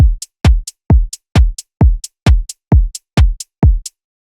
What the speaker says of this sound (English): And then all together, all those hats sound like this